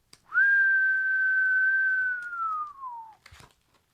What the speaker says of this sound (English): How often do you hear me whistle about a chess book?